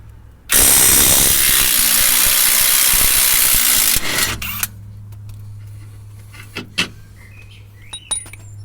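A ratchet on a 17mm bolt from a Volvo rear shock absorber gives a loud, dense run of rapid clicks for about four seconds. Several sparse, faint clicks and knocks follow in a quiet space.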